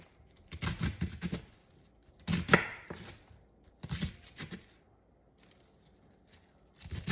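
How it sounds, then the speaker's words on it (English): A knife chops cabbage into small pieces on a board in a few short clusters of quick, crisp cuts with quiet pauses between them, close and fairly soft. "So I'm just gonna chop it up a little bit more."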